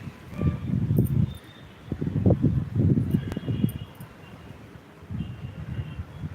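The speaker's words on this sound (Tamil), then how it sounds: "காற்று செம்ம காற்று." Strong gusty wind on a home rooftop terrace garden, rumbling buffets against the microphone in repeated loud bursts with brief lulls between them, heard without speech.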